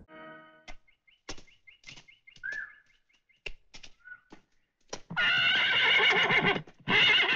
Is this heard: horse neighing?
yes